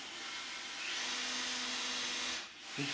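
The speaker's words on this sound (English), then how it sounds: "I think he hates just the vacuum cleaner" A vacuum cleaner runs with a steady whooshing roar and a faint hum, dipping briefly near the end before resuming.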